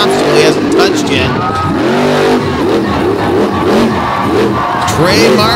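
Monster truck roaring loudly around an obstacle-filled show track, hitting everything and doing slap wheelies, its engine revving in repeated surges while a crowd cheers steadily beneath it.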